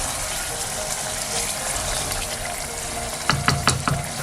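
Fish and bean curry sizzles steadily in a frying pan, with a few soft scraping stirs near the end as it is mixed slowly.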